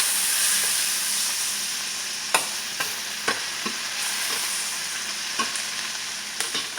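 Diced onions sauté gently in a pan over low heat, producing a soft, continuous sizzle broken by a few light scrapes and clicks from stirring.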